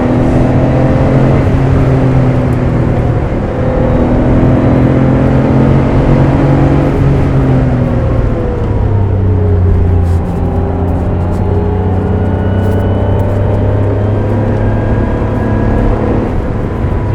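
Porsche 911 Carrera engine from inside the cabin, pulling hard with rising harmonics, then easing off as the pitch drops around the ninth second and builds again, loud and continuous with no talk.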